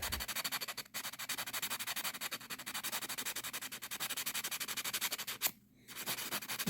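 400 grit sandpaper works over an old nickel silver case in steady, close, rhythmic rubbing strokes, with one brief pause near the end before the scraping resumes.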